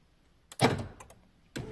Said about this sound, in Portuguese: Porém, se eu trancar o carro,